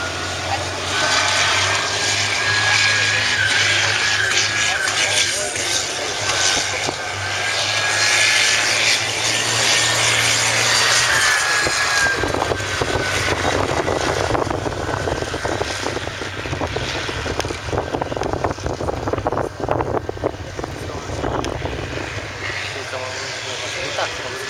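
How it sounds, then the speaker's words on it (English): A Scimitar tracked vehicle crosses open countryside with a steady, loud engine roar and track rumble that persists throughout, shifting in tone midway, while voices talk over it. "the noise in the tracked vehicle, it definitely has more of a presence as it moves around the countryside"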